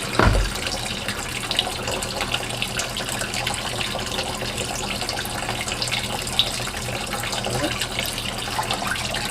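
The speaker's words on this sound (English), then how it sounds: "the rest is just straight out of the tap" Tap water pouring steadily into a pot while making a ballistic gel block, a continuous broad rushing stream heard up close and fairly loud, starting with a brief splash and running alone without talk.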